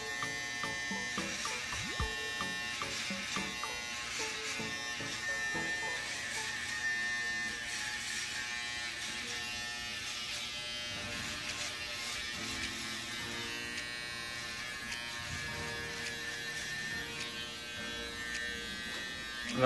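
An electric hair trimmer buzzes steadily and close up while outlining a self-given haircut, a constant whine with small shifts as it moves over the hair.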